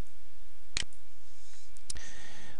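A computer mouse clicks twice, crisp and close, about a second apart, while a thermocouple channel on a dataTaker DT500 logger is set up in software; no one speaks.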